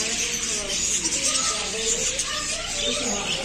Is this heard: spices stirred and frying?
no